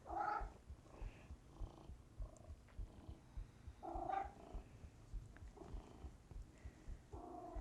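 A cat purrs and makes low rumbling vocal sounds at close range, the throaty bursts coming in uneven pulses over a soft background.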